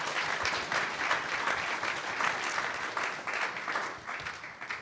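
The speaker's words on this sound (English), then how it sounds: "Can we give them a round of applause for their contributions?" Audience applause for a panel at a Veterans Day recognition event, a steady wash of many hands clapping at moderate loudness that tapers slightly toward the end, with no talking over it.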